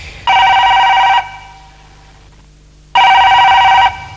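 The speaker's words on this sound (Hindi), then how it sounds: "मेरी बेटी का फोन लग रहा है" An electronic phone ring sounds twice, two loud sustained bursts about a second long separated by a quiet gap with a faint background hum.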